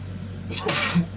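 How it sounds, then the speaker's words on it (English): A single sharp sneeze bursts out over a low steady hum of background noise. "Sneeze."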